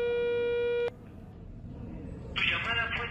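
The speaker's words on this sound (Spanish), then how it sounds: "Por eso también los llamamos por teléfono." Telephone call tone on an unanswered call: a steady electronic beep holds for under a second and then cuts off, followed by quiet line hiss and then a voice speaking.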